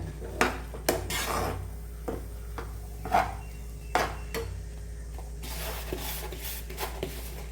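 A spoon stirring rava upma in a pan, scraping and clinking against the metal in irregular strokes, with several sharper knocks over a steady low hum.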